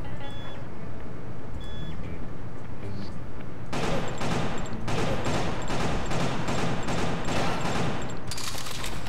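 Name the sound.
gunfire in the video game Killer 7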